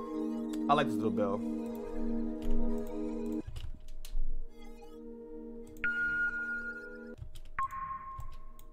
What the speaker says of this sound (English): I like this little bell.